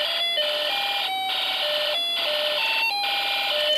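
Electronic tones from a Snap Circuits alarm IC and music IC mixed through a speaker, a shrill pulsing alarm chirp in repeating bursts overlaid with stepping melody notes, loud and steady with no voices.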